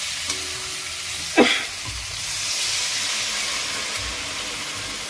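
Water poured into a pan of sautéed potatoes and cauliflower, a sharp burst of hissing and bubbling that swells into steady loud boiling-sizzle noise close by.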